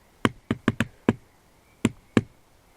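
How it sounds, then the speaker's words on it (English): Knocking in a deliberate pattern on a hard surface near a chimney at Sawmill Cove: a quick run of five sharp knocks, a pause, then two more, close and crisp against quiet. "Can you knock in a pattern like this?"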